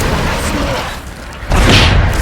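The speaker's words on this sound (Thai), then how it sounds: "โดนระเบิดตัวเอง" Explosion in the video game State of Decay 2, a loud sudden boom that bursts in partway through and holds as a heavy rumble, following a brief quieter stretch.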